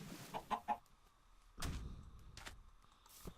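Chickens in the video game Minecraft cluck in a few short bursts near the start, then a couple of louder bird calls follow, with no talk.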